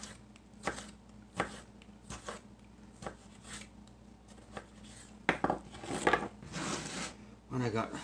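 Sharp knife slicing through big juicy tomatoes on a board, a series of soft separate cuts that come irregularly and grow busier toward the end, close and quiet, with someone talking between them.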